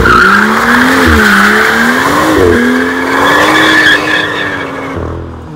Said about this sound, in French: Cyril va nous montrer comment il drift avec la M2